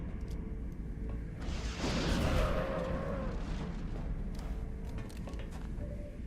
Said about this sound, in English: Such a good rocket. It's too good not to fire.